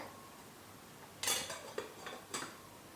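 A metal lid set onto a cooking pot of simmering mango and fenugreek curry, a few sharp clanks and rattles in quick succession against a quiet kitchen background.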